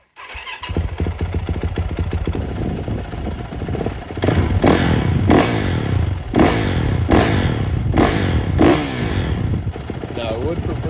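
A Yamaha motorcycle engine starts and warms up, settling into a loud, steady idle with a few blips of revving, close by.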